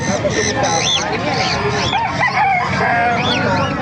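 Roosters crow repeatedly and chickens cluck at a busy poultry market in Calumpit, Bulacan, with a dense continuous din of birds and people talking throughout.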